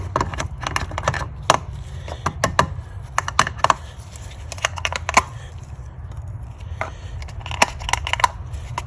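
A new oil filter snapping into place on a 2012 Chevy Equinox, heard as a string of sharp, close plastic clicks and small handling knocks over a low background rumble, with no talk.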